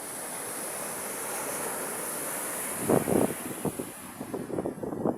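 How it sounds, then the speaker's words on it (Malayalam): Steady roar of sea waves washing onto a shore on a clear day, with a constant broad rush and louder surges building toward the end, heard alone without talk. "കടലിൻ്റെ സൗണ്ടിൽ നമുക്ക് നമ്മൾ പറയുന്ന സംസാരം കേൾക്കത്തില്ല"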